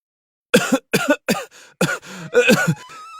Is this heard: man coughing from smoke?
yes